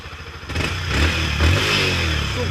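A motorcycle engine runs close by, a steady mid-pitched rumble that swells and holds at a higher level through the second half, with some clattery texture and no talk.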